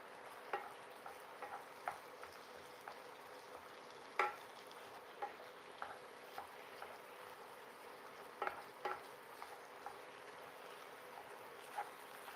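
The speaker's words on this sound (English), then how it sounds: "I'm just using, this tool is called a chop stir, and it works really well for ground meats." A chop stir tool scrapes and taps through ground beef in a skillet, giving quiet, irregular clicks and knocks over a faint, low sizzle, with no talk.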